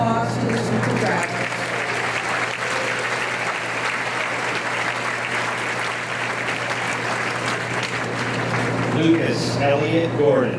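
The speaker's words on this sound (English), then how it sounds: "Please give a round of applause to the super graduates." Sustained applause from a high school graduation audience in an auditorium, dense steady clapping for about ten seconds with a faint murmur of voices underneath, swelling slightly near the end.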